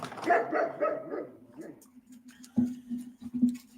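A dog barks and yelps in a short series of sharp, fairly close calls, some soft voices early on and quieter barks spaced out afterward.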